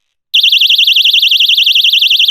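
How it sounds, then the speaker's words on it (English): A personal self-defense alarm shrieks after its pin is pulled, a piercing, very loud warbling electronic siren that starts abruptly and pulses rapidly without a break. "So I think the personal alarms are a really good self-defense tool."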